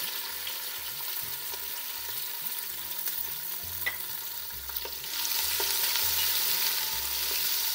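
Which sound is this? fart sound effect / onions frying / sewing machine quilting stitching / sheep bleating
onions frying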